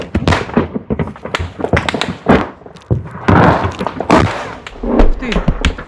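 Sharp, loud bangs crack repeatedly at close range, irregular bursts of gunfire overlapping with shouting voices, in combat at Avdiivka.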